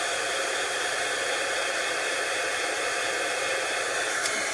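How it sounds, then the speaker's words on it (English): A heat tool blows a steady, even hiss of hot air while drying turquoise ink on a card, loud and close without a break, and no voice. "I'm going to hit this with the heat tool for just a second to make sure that that tempting turquoise is dry before I stamp on it"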